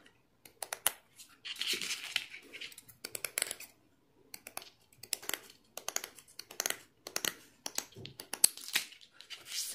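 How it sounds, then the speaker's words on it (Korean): Scissors snip through a stiff plastic canvas sheet, trimmed along the grid for a glow leather bag project, giving repeated close, crisp clicking cuts in short bursts with brief pauses. "근데 바짝 자르지 마시고 조금 남겨서 한 요 정도 되게 이렇게 해서 쭉 잘라줍니다."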